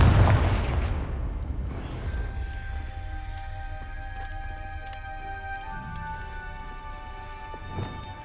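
A Confringo spell explosion in Hogwarts Legacy bursts with a heavy boom at the start, its rumble decaying into a sustained magical hum with scattered faint crackles and a small thump near the end.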